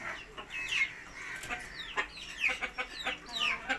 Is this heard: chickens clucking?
yes